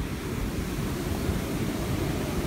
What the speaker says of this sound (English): Double banger waves, and just wait up here for the next waves.